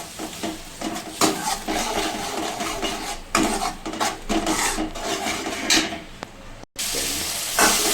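Spice masala roasts with a splash of water in a pan for a potato, soya chunk and yogurt curry. It makes a loud, dense, continuous sizzle with constant scraping and stirring strokes throughout, briefly cutting out near the end.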